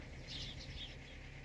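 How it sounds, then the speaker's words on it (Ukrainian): Sparrows gathered on frosty branches in winter, with soft wing flapping and high chirps over a steady outdoor background hum. "Ой, скільки там горобців на них."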